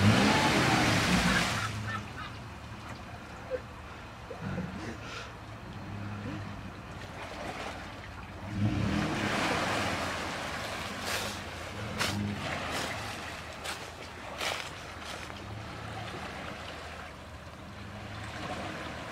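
A 4x4 vehicle crawls through water over rocks, with a splashing surge at the start, then sloshing and churning water and a low engine rumble throughout.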